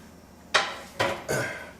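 Metal bacon trays are pulled out and slid back into a Power XL 10-quart vortex air fryer, three sharp clattering metallic knocks in quick succession, each ringing briefly before fading.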